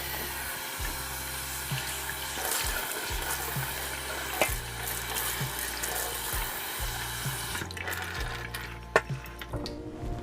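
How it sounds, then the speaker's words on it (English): Hot running water streams into a Paderno cast iron pan being washed in a sink, a close, steady splashing hiss with an underlying tap hum and occasional knocks of the pan, with no talking. "Now I'll use some hot water and wash it."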